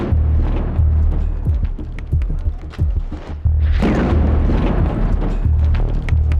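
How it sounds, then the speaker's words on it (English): Gunfire in street fighting in the centre of Grozny during the First Chechen War, heard as repeated sharp reports and heavy booms echoing between buildings over a loud rumbling background. "Gunfire is still echoing around the centre of Grozny"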